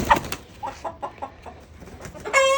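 Broiler chickens, including Spanish, Redbro and Master Grey breeds of about 4 kg, cluck in short, scattered bursts nearby, with a louder squawk near the end; the setting otherwise is fairly quiet.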